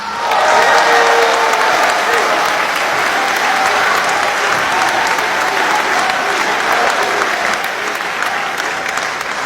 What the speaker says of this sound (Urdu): آپ سب کی بھرپور تالیوں میں تہذیب حافظ صاحب